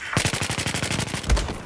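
Rapid automatic gunfire from a machine gun in Battlefield 4 on the Hainan Resort map, a steady stream of close, loud shots with a heavier burst near the end.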